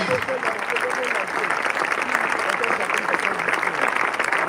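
A crowd at a funeral in the Democratic Republic of Congo claps and applauds steadily throughout, while someone speaks loudly over the clapping.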